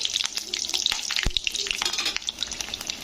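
Tempering spices and green chillies sizzle in a pan for aloo posto while being stirred, a soft continuous fry with scraping clicks of the utensil, no voices.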